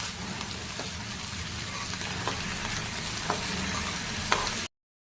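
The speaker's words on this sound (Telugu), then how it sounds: "కడిగి పెట్టుకున్న తోటకూర వేసి బాగా కలపాలి." Washed amaranth leaves are stirred in a hot frying pan for a potato and amaranth stir-fry, making a dense, continuous sizzle with soft scraping stirs up close before the sound cuts off abruptly.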